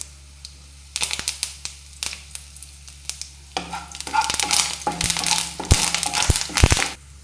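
Crushed garlic hits hot oil in a tempering for a village-style greens stir-fry, starting with crackles and scrapes, then swelling into a loud, steady sizzle with sharp pops near the end.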